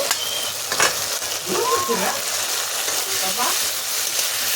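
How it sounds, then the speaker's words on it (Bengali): Food fries in a pan for a vendi shorse dish, a loud, steady sizzle with a few stirring scrapes mixed in and some faint background sound. "আরেকটু ভেজে নেব"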